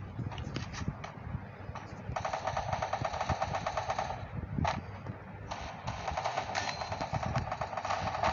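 Rapid automatic gunfire from the Free Fire clash squad match on the Kalahari map, with sustained bursts of shots, brief gaps and scattered single cracks, fairly loud over constant game background noise.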